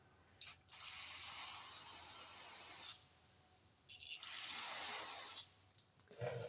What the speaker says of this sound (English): I'll give it a quick spray with some cleaner here.